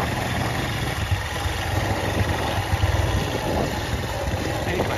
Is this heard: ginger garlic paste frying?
no